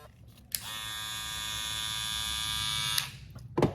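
A StyleCraft Rebel hair clipper motor switches on with a click and runs for a few seconds as a steady, bright, high-pitched buzzing whine, then clicks off.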